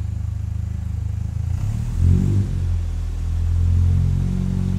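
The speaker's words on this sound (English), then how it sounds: "let me rev it up a little bit" A 1959 Triumph TR3 A engine idles with a low, lumpy rumble, then is revved up, rising to a louder, higher drone and holding there, close by with no talking.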